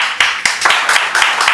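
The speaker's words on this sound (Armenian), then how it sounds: "Եկեք ծափահարենք այդ մարդուն։" An audience claps in a brief, loud burst of applause, with several sharp, rhythmic claps standing out over a dense wash of hand claps, with no talking.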